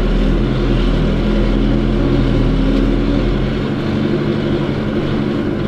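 A Case JX110 tractor engine runs at around 1500 rpm in first gear, ploughing light soil in a field: a loud, steady, low diesel drone that holds throughout, with no voices.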